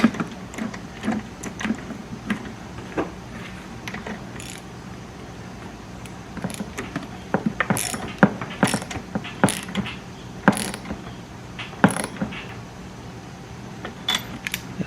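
A hand ratchet snugs a spark plug into a Honda EU2000 inverter generator, giving irregular bursts of close, sharp clicking with pauses between strokes and no talking.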